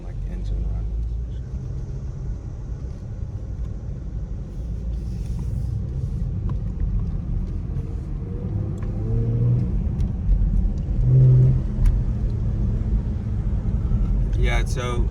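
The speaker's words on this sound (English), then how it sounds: "I'm gonna like do some like engine runs." A 2017 Chevy Camaro RS with a 350 hp engine and a colder aftermarket intake runs while driving around the block, giving a steady low rumble with a few brief revs, heard from inside the car with some talk over it.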